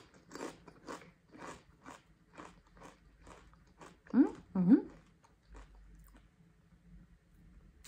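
Someone bites into and chews old cream-and-onion crisps from IKEA, with two loud crunchy bites mid-clip amid softer crackly chewing, while a person talks intermittently.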